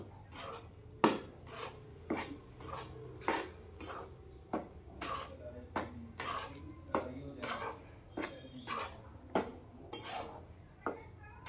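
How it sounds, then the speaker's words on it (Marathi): Ragi flour roasting in ghee in a pan, a spoon or spatula scraping and knocking against the metal in a steady, regular rhythm of sharp strokes over a low background hum. "तूप थोडं गरम होऊन दिले आणि आता त्याला छान असं भाजणार"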